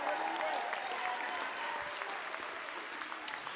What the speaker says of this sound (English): clap them unto God, and give the Lord a mighty shout all through this auditorium